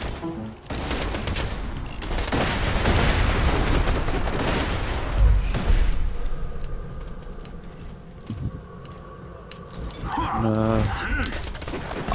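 Shotgun blasts crack out in quick bursts during a Borderlands 2 firefight, mixed with other game noise. Excited voices talk over the shooting throughout.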